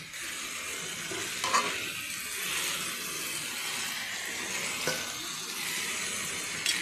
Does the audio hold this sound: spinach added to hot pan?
yes